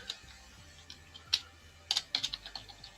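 Keys clacking on a computer keyboard as code is typed into a notebook, in irregular bursts of crisp, fairly close clicks with short pauses between them and no talking.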